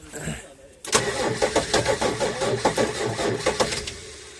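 A VW LT28 van with a 2.4 diesel engine cranks and catches after six years unused, settling into a loud, knocking, uneven idle with rhythmic pulses, heard up close.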